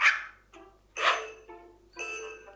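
A dog in the Dog Simulator video game gives three separate barks spaced about a second apart, each a short bright burst that trails off, moderately loud with no talk over them.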